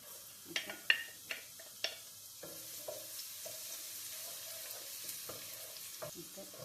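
Garlic cloves sizzling in hot oil in a pan for lasagna, with a few sharp clicks and stirring knocks at the start, then a steady low frying crackle.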